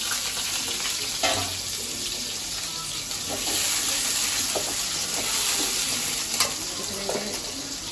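Potatoes frying in a pan with cumin for a Bengali curry, a steady hissing sizzle with a few stirring clinks, fairly close and with no talking.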